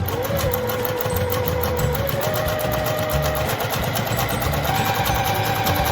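Sewing machine running steadily as it stitches a seam along the folded edge of a batik fabric napkin, a loud close mechanical hum with rapid rhythmic needle ticking throughout.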